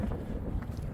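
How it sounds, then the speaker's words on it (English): Wind blowing hard across the microphone outdoors near Hoover Dam in the evening, a brief, steady low rumbling buffet. "Oh, it's windy."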